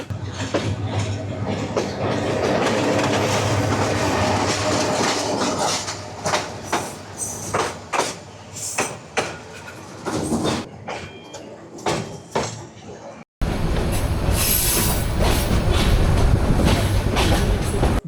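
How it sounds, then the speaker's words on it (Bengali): Mahanagar Provati passenger train pulling into Dhaka Airport railway station on the Dhaka to Chattogram run, a loud sustained rumble with rattling wagons and clicking wheels over joints, continuing steadily after a brief break. "ঢাকা বিমানবন্দর রেলওয়ে স্টেশনে প্রবেশ করলো"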